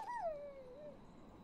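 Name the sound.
dog whimpering, caught in a trap, from video game Maid of Sker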